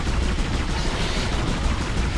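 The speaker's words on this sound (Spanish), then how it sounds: "Mi nueva ametralladora" Loud, continuous machine gun fire from the Dead Space game, a dense rapid rattle of shots filling the whole moment without a break, close and harsh.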